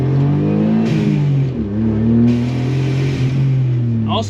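Suzuki Alto Works small turbo car engine revving hard through an acceleration pull, close and loud, with the pitch climbing, dropping at a shift, then climbing again, ending in a brief hiss.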